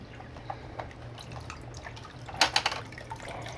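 Residual water dripping and trickling from an aquarium canister filter with its lid off, a few soft drips followed by a short cluster of sharper splashes over a low background hum.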